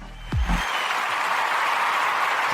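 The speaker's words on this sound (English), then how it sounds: "That deserves a round of applause" Applause on a radio show: a crowd of clapping hands that starts abruptly after a brief low thump and continues as a steady, loud, dense wash with no voices.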